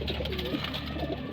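A racing pigeon hen coos softly in her loft just after returning, a low, throaty murmur close by over steady background hum.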